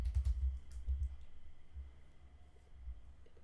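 A command is typed on a computer keyboard, with a few quick keystroke clicks near the start over a low, steady room hum. Quiet and close.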